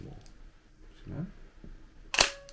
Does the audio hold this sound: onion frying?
no